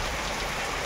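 Heavy rain pours down steadily in a dense, continuous hiss, loud and close, with no voices over it.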